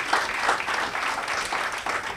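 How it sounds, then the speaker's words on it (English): An audience at a panel discussion on women in leadership in Ghana gives a steady, full round of applause, with many hands clapping together in a large room. "Please, let's give a round of applause to these wonderful ladies who have led the panel."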